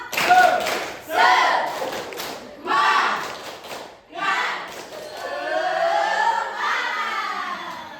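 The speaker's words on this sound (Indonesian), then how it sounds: "Kalian coba sekali lagi. Tepuk semangat." Classroom pupils doing a rhythmic clapping chant, with bursts of shouted children's voices in a regular beat, separated by short pauses, and a longer sung-out phrase at the end.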